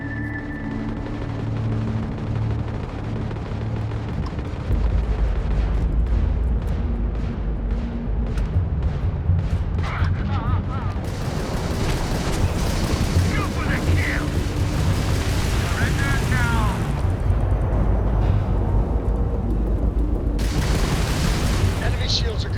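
Spaceship weapons in Starfield fire in dense, continuous booming volleys and blasts, a loud rumbling barrage that runs throughout with voices heard over it.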